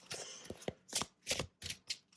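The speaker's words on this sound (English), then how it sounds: "as I was shuffling this beautiful, beautiful deck" Tarot card deck being shuffled nearby, a string of crisp papery riffling bursts in quick irregular rhythm, clear and close with no voices.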